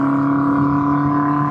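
A 1979 Honda CB750F Super Sport with pod air filters cruises in top gear at about 55 mph, its engine holding a loud, steady, smooth tonal drone with no hesitation.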